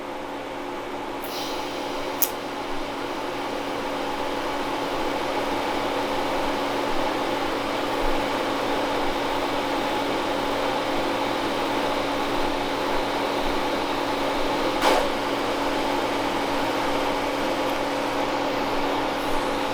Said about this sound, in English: I'll get ready to pass this fusion weld.